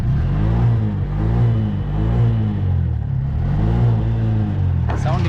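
A Bajaj auto rickshaw engine idles and revs steadily nearby, its low throbbing rumble pulsing in a regular rhythm throughout, with a brief higher-pitched sound near the end.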